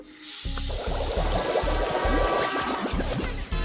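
Hot water gushes into a tub from a tap, a steady close splashing pour with rising filling tones, running continuously with no talk.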